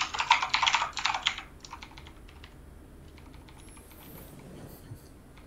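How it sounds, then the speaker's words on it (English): Typing on a computer keyboard, a rapid loud burst of clicking keystrokes that then thins out into softer, scattered taps over a quiet background. "I'm getting tired of typing that"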